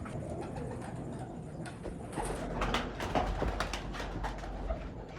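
Sialkoti breeder pigeons coo softly and repeatedly in a quiet setting, with faint rustling and light knocks from a cage in the background.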